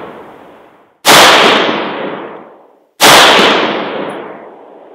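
Two loud, sharp 6.5 Creedmoor rifle shots from a Ballistic Advantage barrel ring out about two seconds apart, each blast trailing into a long, fading rumble of echo.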